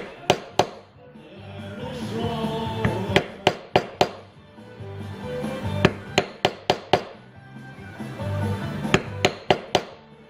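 Mallet strikes on a leather tooling stamp for thumbprint Sheridan-style flower carving on leather, sharp close knocks in bursts of one or two and quick clusters, over a soft background of someone talking.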